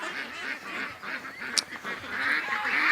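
Outdoor ducks honk and quack in a busy overlapping chorus, fairly close, with a steady bed of bird calls throughout.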